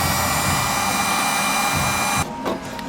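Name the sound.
heat gun blowing hot air to dry resin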